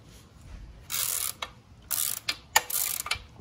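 A ratchet clicks close up in several short bursts with brief pauses between them while a 12 mm bolt is loosened on a Honda Civic during a trailing arm job.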